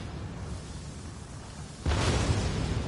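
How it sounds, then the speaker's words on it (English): Explosions in the action game Nioh 2: a distant low rumble gives way to a sudden loud boom that settles into a heavy, sustained roaring blast with crackling bursts. "Why are there explosions?"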